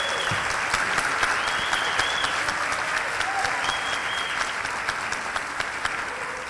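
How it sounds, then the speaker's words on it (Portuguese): A talk show audience gives a sustained round of applause, steady and even throughout, with faint voices and whoops mixed into the clapping. "uma salva de palmas, Marta Medeiros!"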